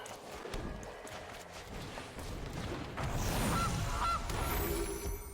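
A goose honks as a Goose card is cast in the digital card game Magic Arena, a short game sound effect over a busy, steady background of game audio.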